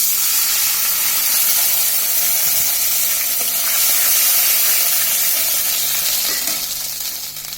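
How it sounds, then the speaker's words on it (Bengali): Water poured into a hot pan of frying onions and oil, bursting into a loud, continuous hissing sizzle of steam that holds steady and then begins to fade toward the end, no voices. "এখন আমি পানিটা দিয়ে দিব"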